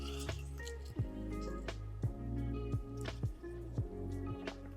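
Lemon juice is squeezed through a hand strainer in a garden-to-kitchen setting. Soft, wet squishes and drips repeat every second or so, close and quiet, with no talking.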